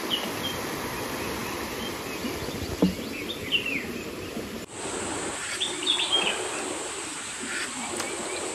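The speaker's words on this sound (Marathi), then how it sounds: "सकाळ सकाळ आला पक्ष्यांचा आवाज बघा, मस्त वाटतं एकदम." Morning birdsong at an overnight campsite, scattered chirps and calls at moderate distance over a steady wash of wind or distant surf, with faint insect buzz and no voices.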